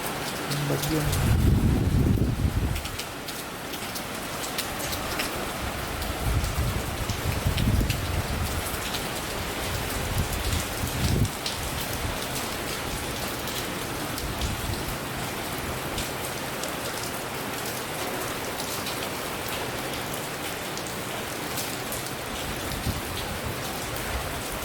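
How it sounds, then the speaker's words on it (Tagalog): Heavy typhoon rain pours down steadily and loudly, a dense continuous hiss of drops drumming on surfaces, with low gusty rumbles of wind strongest near the start. "Ang bagyo."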